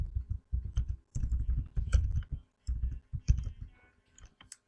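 HTML code is typed on a computer keyboard in quick clusters of close, crisp key clicks, separated by short pauses, with no voices.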